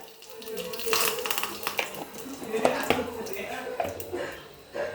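Cumin, mustard seeds and curry leaves dropped into hot oil sizzle and crackle in bursts, with utensils clinking against the pan while a voice talks over it.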